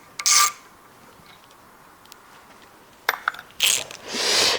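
A ratchet clicks in short bursts while undoing a nut during a car repair, quick close ratcheting sweeps separated by quiet pauses, alone without talk.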